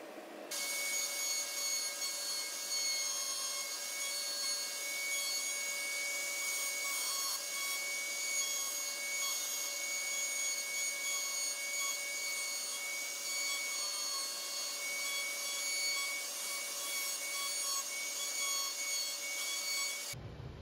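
A router cuts wood for a bow tie inlay, a loud, steady high-pitched whine with a constant grinding hiss that runs unbroken for about twenty seconds.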